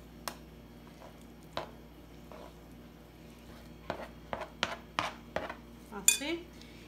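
Chopped cilantro, chili, onion and tomato for shrimp and crab ceviche are emptied into a bowl, giving a series of close, light clinks, scrapes and soft knocks that cluster toward the end.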